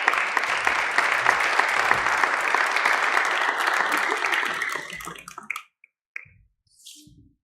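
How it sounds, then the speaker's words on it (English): An audience at a community event on bail reform claps continuously for a poet, dense applause that fades out after about five seconds, leaving a few scattered sounds and near-silence. "Please give her a round of applause"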